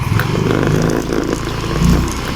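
Yamaha Mio M3 scooter engine fitted with a Veloscope exhaust, not yet warmed up, idling with a steady, slightly rough burble that swells briefly near the end, close by and alone.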